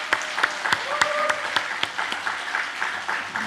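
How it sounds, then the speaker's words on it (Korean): A church congregation applauds its kitchen ministry team, a brief burst of clapping with distinct, fairly regular individual claps standing out over a softer wash of hands, lasting a few seconds. "식당 사역팀에게 감사의 박수 한번 하겠습니다"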